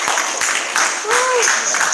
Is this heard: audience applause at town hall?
yes